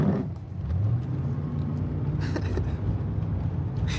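A car in traffic rumbles as it pulls away, a low engine drone building steadily and holding close and moderately loud throughout, with no voices over it.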